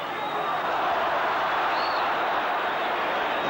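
Steady roar of a football stadium crowd at Liverpool versus Athletic Bilbao in 1983, a dense, unbroken wash of distant voices holding at an even level throughout.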